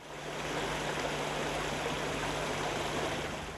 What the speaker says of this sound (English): the rushing water.